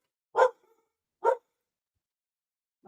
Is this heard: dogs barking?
yes